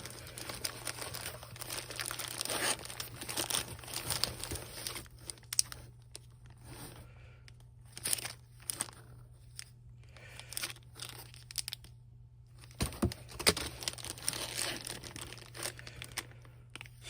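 A plastic bag crinkles and rustles up close as a Bandai 500 series figure is unboxed, in bursts of crackling separated by quieter pauses.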